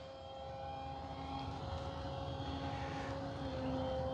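A Dynam Me 262 V3 twin 70mm electric ducted-fan RC jet flies a pass, giving a steady whine that builds slightly in loudness as it approaches, heard alone without voices.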